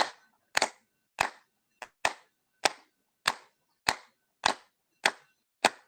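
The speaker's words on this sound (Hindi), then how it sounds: "और अपन अब ताली बजा लेते हैं अपने लिए।" Yoga class participants clap in unison, ten sharp, evenly spaced claps with clear silence between them, close and distinct.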